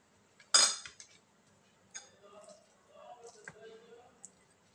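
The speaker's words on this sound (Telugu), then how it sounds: "స్పూన్తో తీసుకొని ఇలా మొత్తం ఫుల్గా ఇలా అప్లై చేసేసుకొని" A metal spoon spreads avocado onto fried bread, with one sharp clink against the plate followed by faint scattered taps and soft scraping close by.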